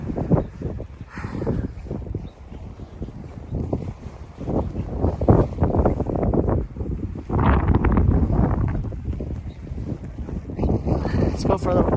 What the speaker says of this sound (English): It's also pretty windy out here.